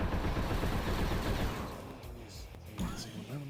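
Dense rattling turret gunfire in a Star Wars Rebels video game, a loud sustained burst for about two seconds that fades into scattered quieter shots and impacts.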